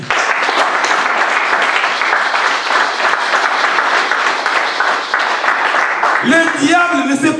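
A church congregation applauds and cheers in a steady, loud wash of clapping and voices that holds throughout, with a brief tonal swell rising at the very end.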